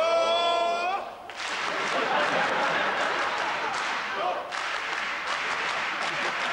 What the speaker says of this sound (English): Mr. Bush's successful survival of the blowfish sashimi was greeted with spontaneous applause by the Japanese government official